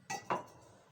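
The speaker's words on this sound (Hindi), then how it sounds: "थोड़े थोड़े करके बर्तन धो लूँ मैं।" Dishes being washed give two quick metallic clinks of utensils against pots or plates, close by and clear, then a fading ring, with no talk.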